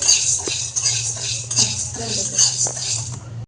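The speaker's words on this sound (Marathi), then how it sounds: "त्यानंतर आपल्याला डाळ भाजून घ्यायची आहे, हरभऱ्याची डाळ." Chana dal dry-roasting in a pan, stirred with a metal spoon that gives quick scraping and clinking strokes, a rattling patter of dry lentils, close and fairly loud over a low steady hum.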